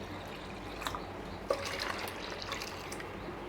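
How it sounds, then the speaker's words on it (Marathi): Water splashes and trickles into a container of rice paste, with a small plop partway through, steady liquid noise throughout and no talking. "यामध्ये आपल्याला भरपूर असं पाणी वतायचं आहे"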